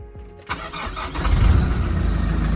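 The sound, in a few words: engine starting with new starter motor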